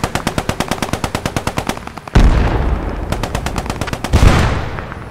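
Rapid automatic gunfire in the WWII shooter game Post Scriptum, a steady rattling burst followed by heavier booming shots and further bursts, loud and close with no talking.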